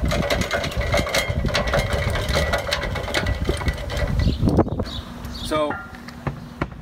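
TRAX power dolly motor running at fast speed while moving a trailer, a steady mechanical whirring drone with clicking, close by, that cuts off near the end, with someone talking.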